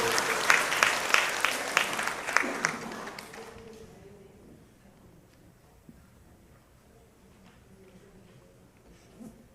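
A church congregation at a Sunday morning service applauds the first-place winner, the clapping loud and steady for a few seconds before dying away into a quiet room.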